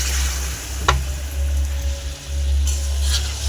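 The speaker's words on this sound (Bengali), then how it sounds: "জল দিয়ে দিলাম।" Steady loud sizzling and frying of fish in a pan right after water is poured in, with a continuous crackling hiss and a low rumble of the hob throughout, and no talking.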